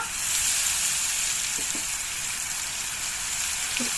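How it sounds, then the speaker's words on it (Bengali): Nigella seeds and turmeric paste sizzle loudly in hot oil for a Bengali pabda fish curry, a dense and continuous hiss with a few faint ticks and pops. "কালো জিরে ফোড়ন দিয়ে দিচ্ছি"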